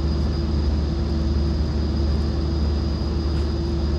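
Steady propeller aircraft engine droning at ground idle while the plane taxis, a constant close hum with a high whine, no voices over it.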